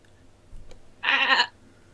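A voice imitates a sheep with a single nasal "baa" bleat lasting about half a second, close and fairly loud, with a faint quieter sound just before it.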